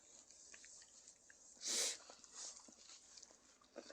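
A puppy right up against the microphone gives a short, loud snuffly burst near the middle, then a softer sniff shortly after, over a quiet room.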